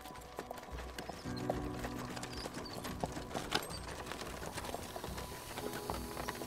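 Horse hooves clip-clop in steady repeated steps in the voxel factory-building game Kubifaktorium, fairly faint and spread through the clip over a low background hum, with a brief whinny-like accent.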